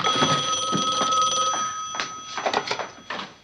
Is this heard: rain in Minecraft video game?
no